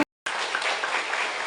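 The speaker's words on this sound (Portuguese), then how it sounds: "Vamos aplaudir a Jesus" Congregation applauding in a church during a worship service, a steady dense wash of clapping that starts abruptly after a brief silence and continues evenly at moderate loudness.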